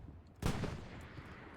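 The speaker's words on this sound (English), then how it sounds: "Chart should have heard that shooting." A single distant burst of gunfire in a World War II shooter set in Carentan, one sharp crack with a brief rumbling tail over low ambient noise.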